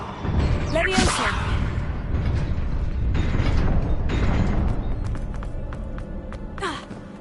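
Magic spell effects in the Hogwarts Legacy video game, loud swelling whooshes and bursts over a rumbling game ambience, with a sharp flurry of crackling pops near the end.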